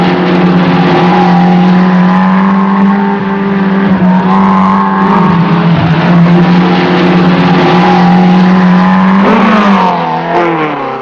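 Porsche rally cars race through the 1974 Lebanon-Syria rally, their engines holding a loud, continuous drone that rises and falls slightly with shifts in speed, with a sharper rev climb near the end.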